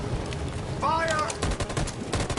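Bursts of gunfire in the Detroit: Become Human video game, several quick sharp shots over a busy background, with a shout cutting through midway.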